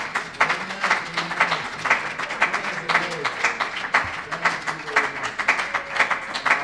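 A church congregation claps rhythmically in praise, bursts of fairly loud, regular handclaps with voices talking and calling out underneath.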